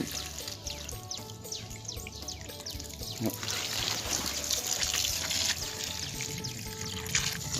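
Water is poured over plant cuttings set in soil, a soft trickling and splashing that swells in the middle of the clip, with birds chirping faintly outdoors in the background.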